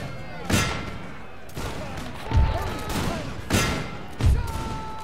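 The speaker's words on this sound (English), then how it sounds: "firing on them, lads." Musket volleys in a Napoleon Total War battle, heard as several separate crackling salvos spaced about a second apart, each a dull thump with a ragged crackle, with a voice calling out between them.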